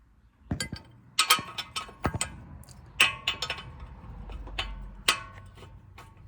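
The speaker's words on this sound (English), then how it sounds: "Now let's go ahead and remove that castle nut." Ratchet working a castle nut loose on an outer tie rod of a Hyundai Sonata NF, a series of sharp metallic clicks and clinks in uneven bursts, close and clear with no talking.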